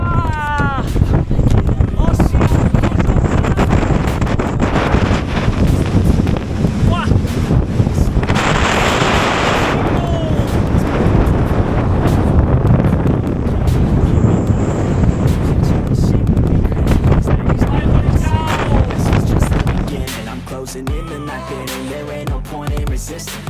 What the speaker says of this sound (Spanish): Madre mía, qué manera de soplar en la cumbre.